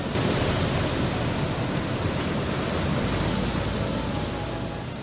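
Rough monsoon sea waves pound the shore where a sand bank has collapsed, heard as a loud, continuous roar of surf and wash with no pause.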